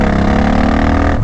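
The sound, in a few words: Suzuki Boulevard motorcycle throttle revving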